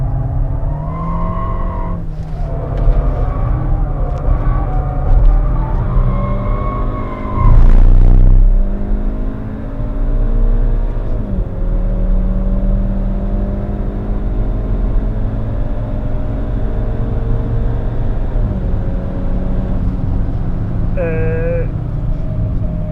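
A Skoda Fabia vRS engine droning steadily from inside the car during hard laps on a test track, with gear-change dips and rising pitch, while people talk throughout.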